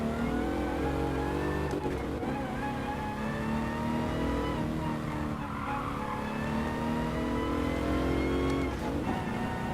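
In Gran Turismo Sport, a race car's engine screams and revs steadily after a too-quick downshift, joined by tire squeal and skidding. The sound is loud, continuous and close, with no talking.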